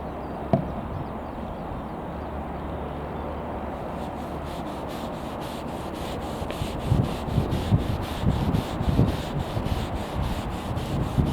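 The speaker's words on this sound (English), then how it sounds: "So let's use some of the cream. You need to give it a good shake and apply with the damp cloth." Cleaning cream worked over a boat surface with a damp cloth gives a steady, close scrubbing rasp that grows busier and more rhythmic partway through, with no voice over it.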